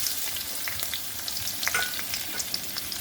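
Mashed ripe olives hit hot oil for a sour-spicy dal, giving a loud, continuous hiss with fine popping crackles close by.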